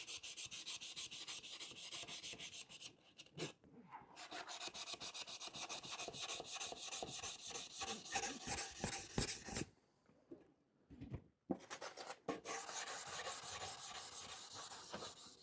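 Continuous wet rubbing and rasping of diamond pads chamfering a stone edge, with a few brief pauses between strokes, close and fairly quiet.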